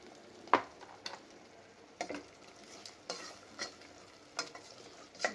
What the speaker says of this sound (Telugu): కొంత బటర్ వేసి జస్ట్ టోస్ట్ చేశాను